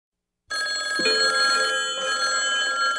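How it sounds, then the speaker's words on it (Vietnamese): Telephone bell ringing, an old-style electric ring that starts abruptly after a brief silence and continues loud and close, with a short dip in the middle before the ringing resumes. "Không biết ai mà gọi điện thoại giờ này ta"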